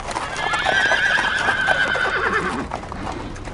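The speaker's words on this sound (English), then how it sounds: "Sir, I hear horses coming down the road" Horses in a World War II video game scene whinny loudly and close, a drawn-out neigh over clip-clopping hooves trotting down a road, with no one speaking.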